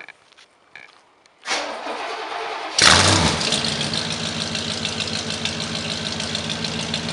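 A 1969 Cadillac Calais V8 cold start: the starter cranks briefly, then the engine catches with a loud roar and settles into a steady, rumbling idle.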